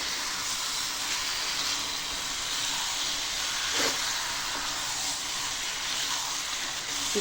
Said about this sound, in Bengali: এখন আমি মশলাটার মধ্যে চিকেনটা দিয়ে দেবো দিয়ে দেওয়ার পর আমি ভালো করে এটাকে আরও কিছুক্ষণ ধরে কষাতে হবে